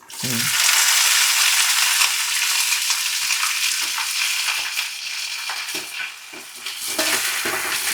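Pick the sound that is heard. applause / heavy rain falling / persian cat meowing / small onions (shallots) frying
small onions (shallots) frying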